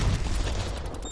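A stun grenade going off in the Call of Duty Cold War video game, a loud, dense, brief blast with a rumbling low end that decays quickly.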